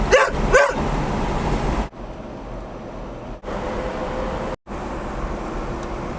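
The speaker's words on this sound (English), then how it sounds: "Dog Marley, you happy dog?" A dog barks a couple of times close by at the start, then a steady engine-like rumble carries on with brief dropouts, heard while setting off to recover a Land Rover Series 2 from a farm.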